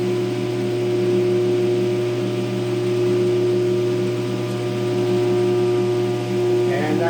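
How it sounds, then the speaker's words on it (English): A Hendey lathe motor runs after rewiring, giving a steady electric hum with a strong, even tone that holds throughout, and a brief rattle near the end. "I'll be able to fire up the motor."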